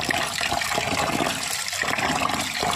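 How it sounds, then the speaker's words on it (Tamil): Rice being washed in water by hand in a kitchen before pressure cooking, a close, continuous swishing and sloshing with no talk. "இப்போது ஒரு டைம் வந்து வாஷ் பண்ணிட்டேன், 2வது டைம் வந்து வாஷ் பண்ண போகிறேன்."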